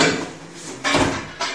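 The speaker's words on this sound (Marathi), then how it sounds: "त्यानंतर हा स्टीलचा कुकर देण्यात" A steel pressure cooker being handled, with soft metallic scrapes followed by two clear clanks near the end, close and fairly loud.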